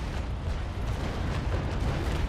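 A broadside of ship cannons firing in the naval combat game Naval Action, a dense rumbling roar of blasts that sustains through the whole moment without pause.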